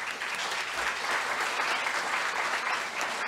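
An audience applauds award recipients at a university anniversary ceremony, an even wash of many hands clapping at moderate distance, continuous and without speech.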